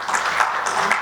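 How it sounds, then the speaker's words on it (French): Audience applause at a conference panel on hydraulic and industrial infrastructure, a steady dense wash of many hands clapping for about a second without a clear break. "sous vos applaudissements s'il vous plaît."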